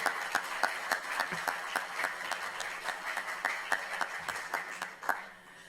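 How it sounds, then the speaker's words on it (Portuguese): Scattered, fairly faint clapping at a solemn church session honoring a judge, individual claps sounding in a loose steady rhythm over a quiet room before fading out. "Mais uma vez, uma salva de palmas para o nosso desembargador."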